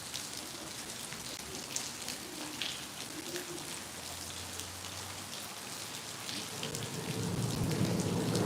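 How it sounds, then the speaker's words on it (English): Rain falls steadily in a constant hiss while a low, distant rumble of thunder rolls underneath and swells toward the end. "hear that thunder?"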